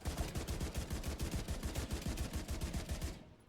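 Rapid auto rifle fire in the shooter game The Division 2, a loud, even stream of closely spaced shots lasting about three seconds before cutting off abruptly.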